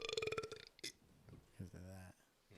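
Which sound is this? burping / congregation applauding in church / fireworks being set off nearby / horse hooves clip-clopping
burping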